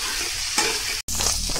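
Crab and onions fry in a wok over high heat, loud steady sizzling with stirring scrapes, close up, broken by a brief cut of silence.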